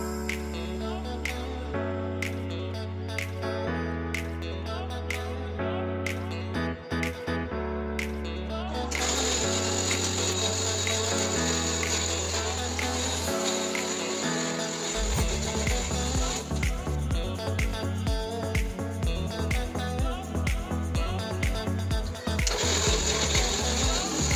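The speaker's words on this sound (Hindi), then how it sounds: "तो हमें जो भी हमने चटनी के लिए कट किया था सब उसको ग्राइंड कर लेना है" A kitchen mixer grinder blends a chutney of coriander, mint, tomato, cumin, salt and red chilli in loud close bursts, a whirring motor stopping and restarting several times with rattling pulses.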